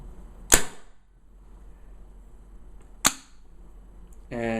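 A Spyder Electra paintball gun discharging, sharp loud pops about two and a half seconds apart in a quiet room, with a brief rattling hiss at the very end.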